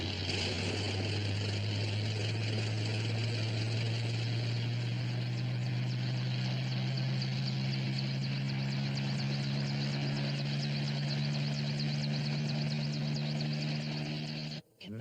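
A helicopter drones continuously with steady rotor and engine noise, loud and close, before abruptly cutting out at the end.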